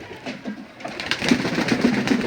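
Pigeons at a pigeon farm give soft, low coos among rustling and fluttering, the activity building and growing denser toward the end of the short stretch.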